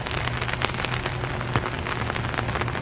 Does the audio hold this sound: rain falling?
yes